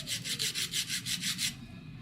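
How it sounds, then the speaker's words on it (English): Repeated rasping strokes of 100 grit diamond stones on a Wicked Edge sharpener while reshaping a blunt knife tip, about eight steady, even passes in quick rhythm, close and clear, then stopping. "And I'm just using my 100 grit stock diamond stones."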